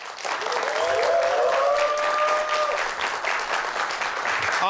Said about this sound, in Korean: 여러분들 큰 박수로 환영해 주시면 고맙겠습니다.